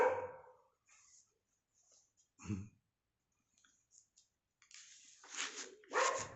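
A dog gives a few short barks and whimpers, scattered through otherwise quiet stretches, fairly close and moderately loud.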